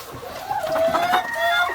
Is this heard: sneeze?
no